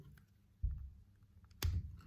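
Two soft plastic clicks and rubs as the cap comes off a small mouth spray bottle, close up and quiet against low room noise.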